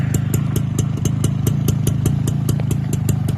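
A Suzuki K125 motorcycle engine running steadily nearby, a loud, even, rapid putter with regular clattering pulses and no voices over it.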